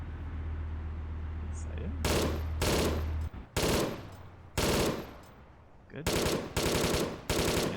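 An MG3 machine gun in the video game Arma 3 firing loud rapid bursts, about seven in uneven succession, while someone speaks briefly over the shooting.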